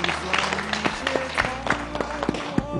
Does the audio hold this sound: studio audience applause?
yes